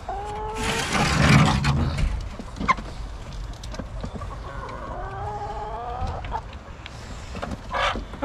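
Chickens cluck and call repeatedly inside a snowy Arkansas homestead chicken coop, with a rooster-like crow in places. The sound is close and busy, with no talk over it.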